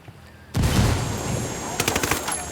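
A frag grenade detonates in the tactical shooter Ghost Recon Wildlands, a sudden loud broadband blast that rolls into a sustained rumble, followed by a burst of rapid cracking reports near the end.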